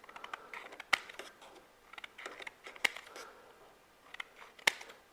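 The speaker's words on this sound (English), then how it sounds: "I'm going to use an old gift card and just cut it into some slices" Scissors snip through an old plastic gift card in a workshop, making three or four sharp, crisp cuts spaced a second or more apart, with faint handling rustle between them.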